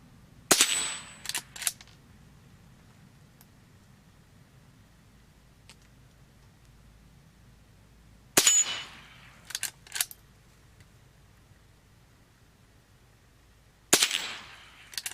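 A Henry Silver Eagle .22 carbine fires outdoors at dusk: three separate sharp shots spaced several seconds apart, each followed by a brief metallic clatter or ring, with quiet background between.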